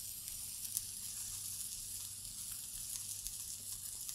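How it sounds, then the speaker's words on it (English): Pork chops sizzle steadily on a hot Blackstone griddle, a continuous even frying hiss with faint scraping from being stirred around, no voices. "I just keep trying to stir these around so I get even cooking on all sides"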